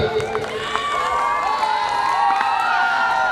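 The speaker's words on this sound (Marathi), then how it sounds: "आपण टाळ्या वाजवून दाद देऊया" An audience at a cultural programme claps and cheers, with shouting voices and whoops rising over a busy crowd roar that stays loud and full the whole time.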